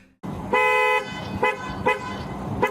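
Car horn honking in sustained bursts: one long blast followed by three shorter toots, loud and close, with no talking.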